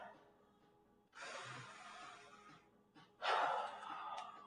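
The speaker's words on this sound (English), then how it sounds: "A couple more deep breaths here." Two deep, close breaths during an at-home chest workout on a yoga mat, each a long airy inhale or exhale following a short pause.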